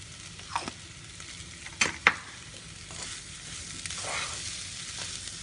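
Potatoes frying in oil for a Gujarati farari potato curry, stirred in the pan: a soft constant sizzle with a few sharp scraping clinks of the spoon and a swelling hiss as the pieces are turned.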